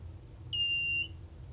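A kit-built metal detector lets out one short, clear electronic tone lasting about half a second over a quiet room hum, close by and alone.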